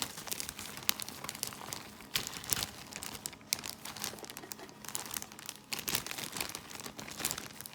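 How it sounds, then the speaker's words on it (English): Quiet, close crinkling and rustling of a plastic bag as soft bread is crumbled inside it, in irregular bursts with no talking. "I'm gonna just crumble the bread up in this bag."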